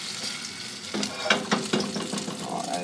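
French toast slices frying in a pan of hot oil, a continuous sizzle broken by several quick clattering knocks and scrapes from a spatula, close and fairly loud, without speech.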